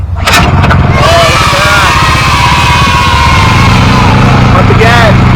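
Harbor Freight Predator small engine pull-started by cord: a sharp burst of cranking that catches and settles into a loud, close, steady running roar.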